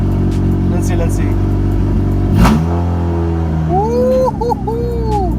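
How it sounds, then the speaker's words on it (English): A cold 1996–2000 Honda Civic EK engine is revved hard, climbing and falling through rising harmonic sweeps, then settling back to a steady idle, with a voice speaking near the end. "I shouldn't be revving it like that."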